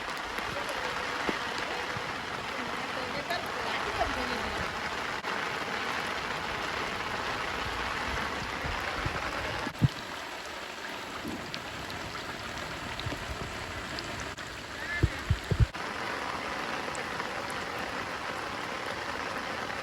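Rain falls steadily outdoors beside paddy fields during cast-net fishing, a soft continuous patter with occasional louder close drips and knocks, fairly faint and without talk.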